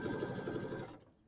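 A sewing machine stitches around the envelope back of a pillow, running in a steady, close, loud whir for about a second before cutting off into quiet.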